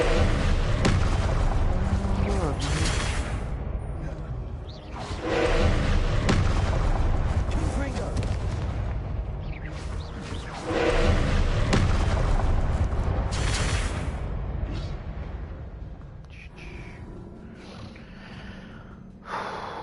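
Spell blasts from Confringo and Incendio burst in loud, repeated booms in Hogwarts Legacy, several heavy impacts spaced through busy game action with breathy effects and a voice speaking over them.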